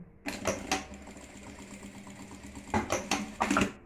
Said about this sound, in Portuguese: Aí eu venho aqui, ó, e passo uma costurinha.